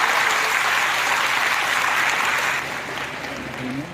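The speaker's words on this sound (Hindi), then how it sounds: "तालियां जरा जोर से बजनी चाहिए आपको।" Sustained applause from an audience at a college faculty introduction event, dense and steady for the full span, easing slightly toward the end.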